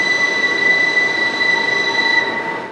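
A children's railway train runs through a park in Novosibirsk, with steady rolling noise and sustained high-pitched wheel squeal lasting throughout, loud and close, with no talk.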